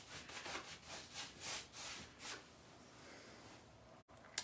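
A nearly dry paintbrush loaded with rust-colored paint is scrubbed over a wooden cabinet in quick, soft, raspy strokes, close and quiet, with the strokes fading out after a couple of seconds.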